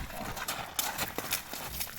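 Hooves clip-clopping as a European-bred horse is led around a stable yard for sale, giving a few close, irregular clopping steps over background noise.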